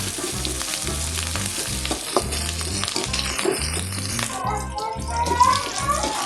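Onions, green chillies and curry leaves sautéing in a pan for a country chicken fry, a loud continuous sizzle over a rhythmic low thumping background, with a brief voice heard near the end.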